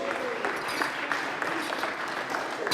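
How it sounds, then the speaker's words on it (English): An audience at a magic lecture applauds volunteers on stage with a steady wash of clapping, moderately loud and a little distant, and no speech over it. "give these volunteers a huge round of applause"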